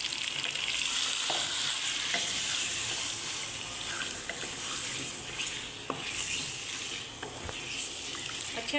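Marinated chicken sizzles and fries in hot oil in a kadai as it is stirred, a steady close frying hiss with occasional scraping and clinking of the spoon against the pan.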